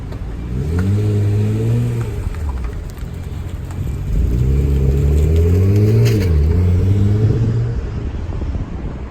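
A Bayside Blue 1995 Nissan Skyline R33 GT-R accelerates hard on the road in two loud, close pulls. Its engine note climbs through the revs with audible gear changes between surges, and no one talks.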